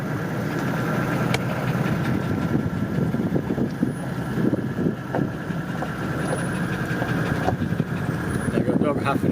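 A farm tractor engine idles steadily out in a paddock, a constant mid-pitched drone close by with small rattles, while someone talks over it.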